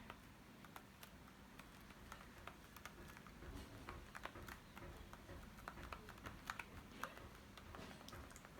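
Faint, quick typing on a computer keyboard, an irregular run of light clicks at close range that continues steadily throughout, with no talking.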